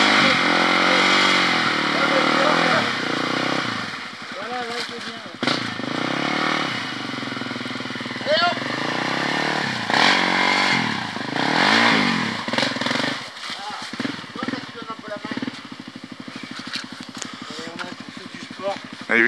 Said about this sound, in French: Allez, mets-y un peu de gaz, Nico.